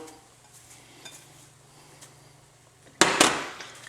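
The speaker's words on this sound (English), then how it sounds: "And give this a stir." A pot of drunken beans cooked with beer and cilantro being stirred, soft faint scrapes giving way to a sudden louder clatter of spoon against the pot near the end.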